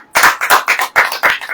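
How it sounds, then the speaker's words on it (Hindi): An audience claps hands in a short burst of about six sharp, loud claps in quick uneven rhythm, close and alone without talk. "ताली बजाएं"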